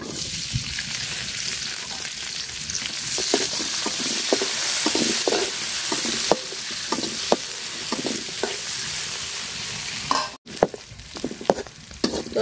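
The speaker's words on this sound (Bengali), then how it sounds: "তো পেঁয়াজ মরিচটি আমি হালকা লাল লাল করে ভাজা নিচ্ছি" Onions and chilies fry in oil in a pot just used for frying fish, giving a close, steady sizzle with frequent scraping stirs of a utensil.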